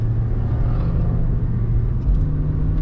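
Steady low rumble of a 1984 Pontiac Parisienne driving, heard from inside, with constant road and engine noise and no talking.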